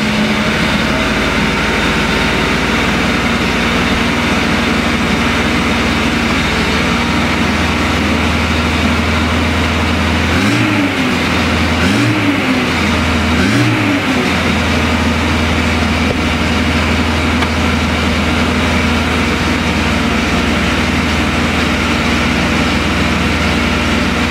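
Renault Trafic van engine running at a steady low idle on choke, loud and close, with a few brief revs in the middle before settling back to idle.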